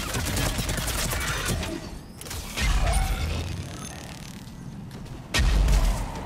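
A Smash power impact in Mass Effect 3 multiplayer lands amid game combat, giving sudden heavy bursts with mechanical, rattling crunches and two loud low thumps among continuous clatter, moderately loud with no talk.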